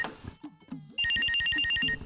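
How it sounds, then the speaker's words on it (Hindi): A telephone bell ringing in a drama scene, a loud burst of electronic trilling that starts abruptly after a second of voices and background sounds and lasts about a second. "किसका फोन आ गया"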